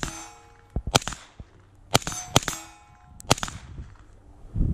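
Suppressed SR-15 rifle shots ring steel plates about 150 to 200 yards out, a handful of sharp cracks spaced a second or so apart, each followed by a faint metallic clang.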